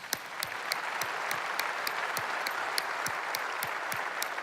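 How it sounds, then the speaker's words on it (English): An audience applauds Toto Wolff at a tech conference keynote, with steady, moderately loud clapping that holds throughout. "Let's give him a round of applause."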